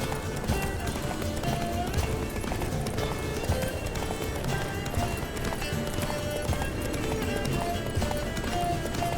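Hooves clip-clop in a fast, steady galloping rhythm in The Witcher 3: Wild Hunt, under a dense background of game music and ambience, with faint voices.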